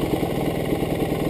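A GasGas EC300 dirt bike engine idles in neutral with a steady, low, throbbing two-stroke putter, close and continuous, with no voices over it.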